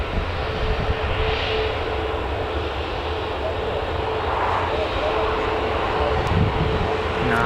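Aircraft engine roar at Newcastle Airport as a plane taxis onto the runway, a steady broad rumble throughout, with people talking nearby over the noise.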